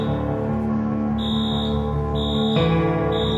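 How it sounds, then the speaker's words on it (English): A fire alarm in a pediatric ward rings out with a harsh, sustained electronic tone that pulses on and off, layered with an echoing, distorted musical drone and heard alone without voices. "Then without warning, the fire alarm rang out."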